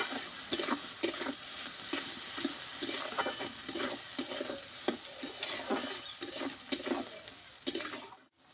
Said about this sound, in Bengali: আর দেবো একটু হলুদ গুঁড়ো, দিয়ে আদা আর কাঁচা লঙ্কাটা একটু টমেটোর সঙ্গে ভালোভাবে আমি কষে নিব